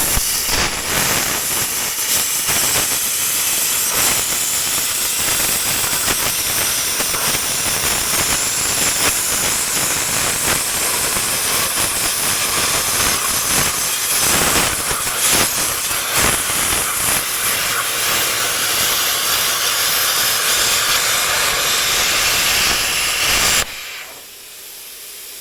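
A pilot-arc plasma cutter slices through the metal of an old horse trailer, a loud, steady, close hiss that runs unbroken for over twenty seconds before cutting off abruptly.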